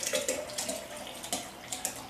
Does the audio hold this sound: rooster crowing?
no